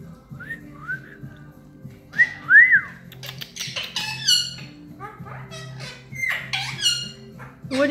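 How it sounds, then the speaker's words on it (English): A pet bird whistles and squeaks in rising and falling notes near the listener, with short chirps scattered among them and a person talking softly at moments. "Good bird, good bird."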